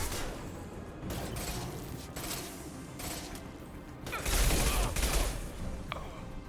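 Gunfire in the Mass Effect Legendary Edition video game, a dense ongoing fusillade of shots with bursts and crashes, swelling louder near the end over a steady din of combat.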